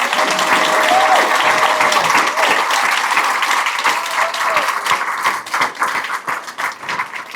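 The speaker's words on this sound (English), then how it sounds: "can we get another round of applause for Lisa?" Applause from a live audience at a Pechakucha presentation night in Bermuda, a dense, loud, steady wash of clapping lasting several seconds that gradually thins toward the end, with no talk over it.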